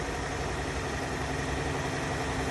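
A car engine idles steadily right after being jump started from a dead battery with a NOCO GB150 booster, giving a continuous, even, moderately loud hum with no talking.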